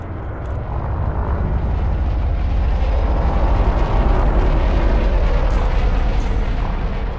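Deep, steady engine roar of a spaceship descending to land on a pad in the game Elite: Dangerous, loud and continuous with a rumbling low end and a faint beep near the start.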